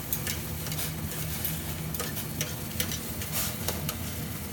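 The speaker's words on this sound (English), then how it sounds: "For our comfortness we are going to loosen it with the forks" Ramen noodles for a carbonara cheese dish are loosened with forks in a hot pan, with a soft continuous sizzle under scattered scraping clicks and light metallic taps.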